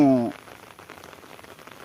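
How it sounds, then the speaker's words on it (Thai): Rain falls over a rice paddy area in a soft, steady patter of fine drops, faint and close, after a brief burst of a voice at the start. "เพราะว่าฝนตกนะครับ"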